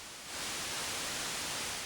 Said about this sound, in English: Let's bring in some noise. So we have white noise.